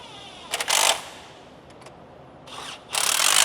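A power tool tightens 10 mm bolts on a car's AC system in short whirring bursts, a quick double pulse and then longer runs separated by pauses.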